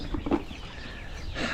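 Chickens in a farmyard flock clucking in short bursts, a few close calls early and again near the end over a steady outdoor background.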